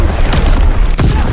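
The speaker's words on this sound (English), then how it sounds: "Incoming enemy artillery." Incoming artillery shell bursting in Call of Duty WW2, a loud, heavy boom with rumbling low-end, followed by a sharper crack near the end.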